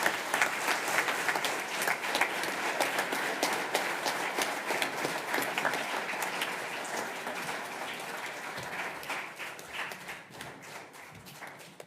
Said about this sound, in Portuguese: A estes adolescentes damos uma grande salva de palmas.